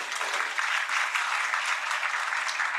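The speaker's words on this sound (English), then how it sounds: "with a round of applause" An audience applauds steadily at a global symposium on civil registration and gender, a dense, continuous wash of clapping with no talk over it.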